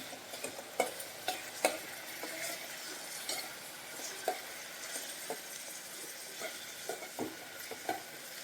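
Tomato pieces being stirred into a frying capsicum masala curry in a pan, with a steady sizzle under irregular scraping and clinking strokes of a spoon, close by and with no talking.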